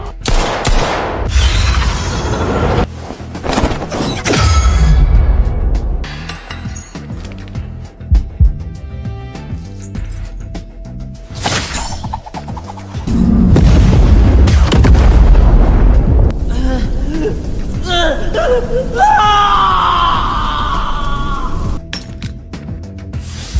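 Gunshots crack and a miniature bomb bursts in a series of loud, close blasts with shattering debris, followed by a long rumbling explosion and ringing tail.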